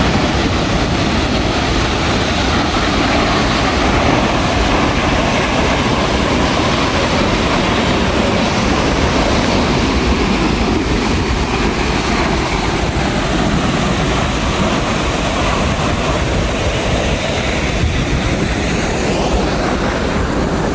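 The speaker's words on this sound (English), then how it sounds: "That waterfall right there is so noticeable now." Multnomah Falls in Oregon on a foggy day, its spray-filled waterfall heard up close as a loud, unbroken roar of rushing water across the whole clip.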